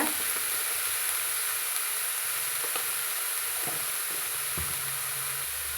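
Small amaranth leaves being stir-fried in a pan with a pinch of turmeric, giving a steady, close sizzle throughout with occasional soft knocks of the spoon against the pan.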